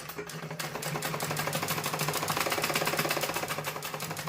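A sewing machine stitches a salwar seam in one steady, rapid run of needle strokes, loud and close, with a faint build in speed partway through and no voices.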